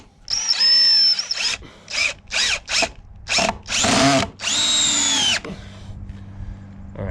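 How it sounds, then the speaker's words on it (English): A power drill drives a screw into lumber while building a ramp, a series of loud close whining bursts of varying length that pause between pulls of the trigger and end with a longer sustained run. "we're just going to put a screw in it for now to hold it"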